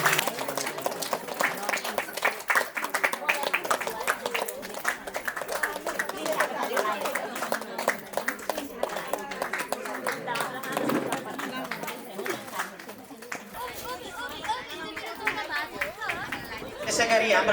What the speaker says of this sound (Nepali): जोरदार तालीले स्वागत गर्नु सम्पूर्णलाई